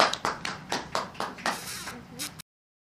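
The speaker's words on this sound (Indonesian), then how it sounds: "Tepuk tangan untuk anak-anak semuanya." Children and adults at a Quran recitation event clap for the young performers, a short run of about eight sharp, rhythmic group claps that fades out and stops abruptly.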